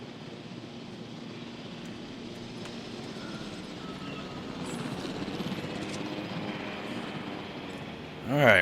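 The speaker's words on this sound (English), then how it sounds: "that sounds like a helicopter coming back" A helicopter returning in Jurassic World Evolution, with a low steady rotor drone that grows louder toward the middle, capped by a brief sharp sound at the very end.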